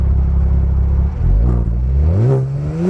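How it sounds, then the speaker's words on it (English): A Genesis G70 sports sedan with a 365 hp V6 and rear-wheel-drive chassis accelerates hard, its engine note climbing in pitch through a loud, close rev with a brief dip as it shifts. "Its 365 horsepower V6 serves up thrilling acceleration."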